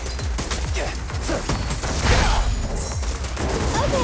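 Video game gunfire comes in dense rapid bursts layered with impacts and crashes. It is loud and continuous throughout, with game voices speaking over it.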